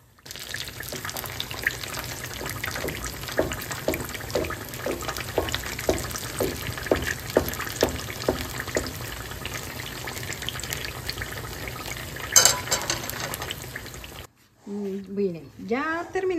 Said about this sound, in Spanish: Les vamos a dejar aquí que se vayan friendo.